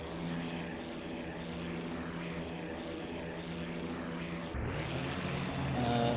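WWII propeller fighter planes, Spitfires and Hurricanes, drone through the IL-2 Sturmovik 1946 flight sim with a steady layered engine hum that shifts abruptly near the end as a louder, rougher engine tone takes over.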